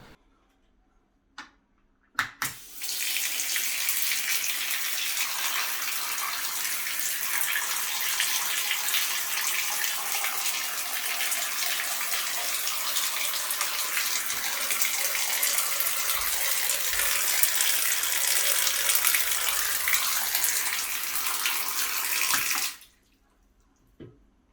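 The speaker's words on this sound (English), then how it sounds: "The water will flow off towards the shower drain, as the bottom floor has been already made as a slope." Water runs steadily across wet room matting and drains toward a sloped shower floor, a continuous hissing splash of shower spray lasting about twenty seconds before stopping abruptly, with no talking.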